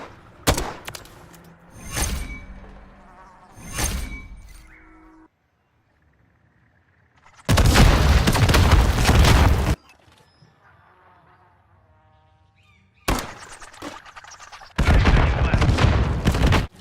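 Gunfire in the video game Modern Warfare III on the Favela map. Two long, loud bursts of rapid automatic fire stand out between quieter stretches of scattered in-game sounds and near silence.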